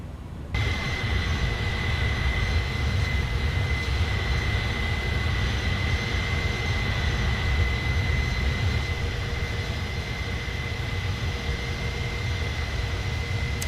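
An aircraft engine in Microsoft Flight Simulator 2020 drones steadily and loudly for the whole stretch, a constant roar with a sustained high whine and no change in pitch.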